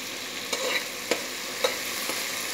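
Tomato masala being stirred in a pan, with a low steady sizzle and three distinct spoon scrapes or taps against the pan at regular intervals, close and fairly quiet.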